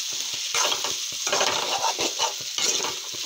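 Eggplant pieces fry in a pan, giving a close, steady sizzle broken by bursts of louder crackling as they are stirred, with no talk.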